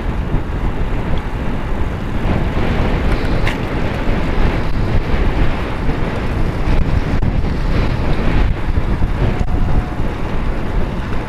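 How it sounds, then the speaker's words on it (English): Steady, loud wind buffeting a microphone while riding into a headwind, a continuous broadband roar with no voices, filling the whole stretch. "A headwind here, it'll be a tailwind going the opposite way."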